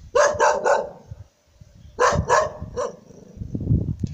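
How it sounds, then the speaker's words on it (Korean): A dog in a Korean village barks in two bursts of three sharp, loud barks each, close by, with low rustling and a voice murmuring between them. "짖지 마라, 아예."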